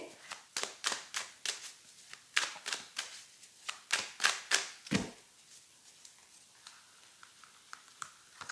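Tarot cards gathered up and shuffled by hand on a table: a quick run of crisp, close slaps and riffles for about five seconds, then a few softer, sparser taps, with no one talking.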